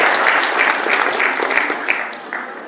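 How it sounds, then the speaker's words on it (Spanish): Steady, loud audience applause at a public event, a sustained rain of many clapping hands with faint crowd murmur, easing slightly toward the end. "Fuerte los aplausos."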